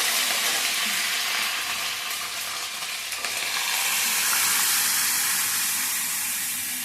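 Constant loud sizzling of spices frying in hot oil, a bright hissing crackle that swells slightly midway and carries on without voices.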